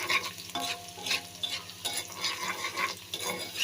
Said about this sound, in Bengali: রসুনটাকে একদম লাল করে